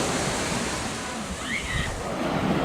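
Surf washing onto a sandy beach at Winnifred Beach in Portland, Jamaica, a steady broadband roar of waves with wind noise on the microphone, continuous and fairly close.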